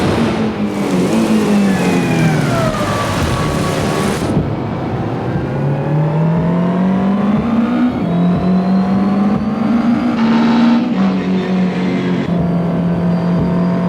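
Racing cars wind through S-curves at Silverstone, engines roaring loud and close and rising and falling in pitch as they accelerate and change gear, with several cars overlapping in one continuous snarl.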